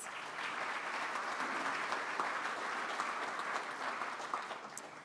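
A seated audience at a community gathering applauds volunteer hosts, sustained clapping building quickly and holding steady for about five seconds before easing slightly, full and roomy, with no one speaking.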